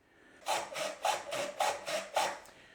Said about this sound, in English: This is the sound of a saw starting off the teeth and stopping off the teeth.